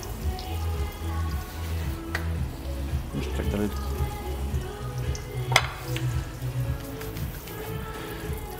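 Curd pancakes (varškėčiai) frying in a pan, a steady soft sizzle and crackle running throughout, close but fairly quiet beneath a low hum, with occasional clinks and someone talking over it.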